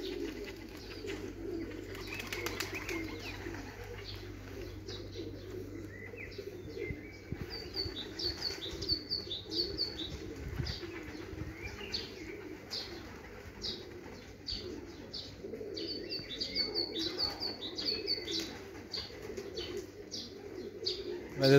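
Pigeons at a racing loft coo and chirp softly in a steady, continuous murmur, with occasional wing flutters and a low background hum throughout.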